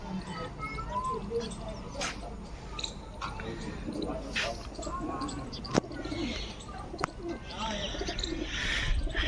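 Pigeons coo on a rooftop above green land, soft repeated calls and chirps mixed with a continuous outdoor murmur and faint background voices, with occasional sharp clicks.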